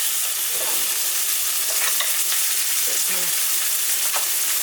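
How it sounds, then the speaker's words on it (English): Garlic, rosemary and thyme sizzling in a steak pan, a loud, steady frying hiss close up with occasional light stirring scrapes and small pops. "let's get that garlic and rosemary and thyme in."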